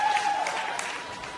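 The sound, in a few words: audience applause and ululation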